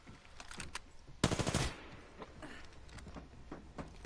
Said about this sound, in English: I'm shooting at the targets.